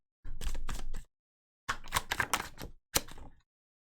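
Tarot cards handled and shuffled in a reading, with three bursts of crisp riffling and snapping, the middle burst longest and busiest, close and fairly loud with short silences between.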